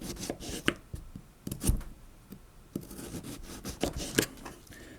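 A Walther MPK knife with a 440C steel blade slicing thin pieces from an orange, giving a run of close, crisp cutting and chopping strokes against a board at an uneven pace, fairly loud, with no talking.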